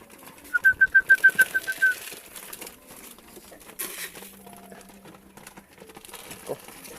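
Pigeons call nearby in a quick run of about ten rhythmic pulses, followed by faint scattered rustling and a low steady tone in a quiet outdoor setting.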